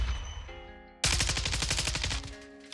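Gunfire from a weapon on the Modern Warfare 2 firing range, with a near, loud burst of rapid automatic shots that rings on for close to two seconds after a quieter stretch.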